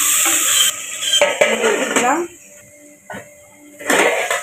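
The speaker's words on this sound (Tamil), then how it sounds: "தக்காளியும் நல்லா மசர வரைக்கும் நல்லா வதக்கணும்" Tomatoes being stirred and sautéed in a pan, with scraping and clinking of a utensil against metal and some sizzle. A person talks over most of it, with a quieter pause in the middle.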